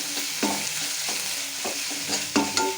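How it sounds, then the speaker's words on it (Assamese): Ginger, garlic and chili paste frying with onions in a pan, a loud close sizzle broken by repeated scraping stirs at an uneven rhythm, with no talking. "এতিয়া মই এটা আদা নহৰু আৰু জলকীয়াৰ পেষ্টখিনি দি দিছোঁ। আকৌ এনেকৈ লৰাব।"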